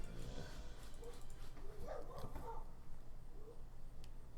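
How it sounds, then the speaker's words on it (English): A dog barks a few times at moderate distance, short yips and woofs over steady background noise in a room. "Don't you dare start barking. Because you hear another dog outside."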